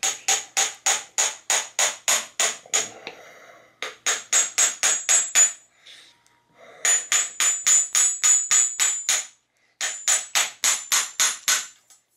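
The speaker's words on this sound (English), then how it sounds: "And then use my hammer" Hammer blows on a tool driving a star nut into a bicycle steerer tube during a vintage road bike headset upgrade, bursts of rapid ringing metallic strikes with short pauses between volleys.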